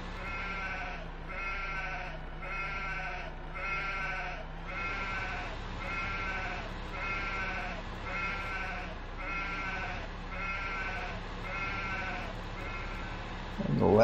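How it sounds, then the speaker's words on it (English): Lambs bleat in a Farming Simulator 15 animal yard: a steady run of short, evenly spaced bleats at moderate loudness over a constant farm-yard background hum, with no talk. "the little lamb sitting over there"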